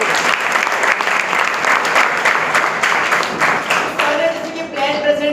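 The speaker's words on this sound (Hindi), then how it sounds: "मैं चाहते हैं एक बार सर के लिए जोरदार ताली होनी चाहिए।" An audience gives a sustained round of loud, dense clapping that continues steadily throughout, with some crowd murmur mixed in.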